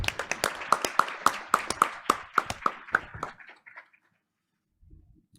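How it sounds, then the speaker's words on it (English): Applause at a school board meeting, a short burst of clapping from a small audience that thins out and stops after a few seconds, followed by quiet. "Let's give them another round of applause."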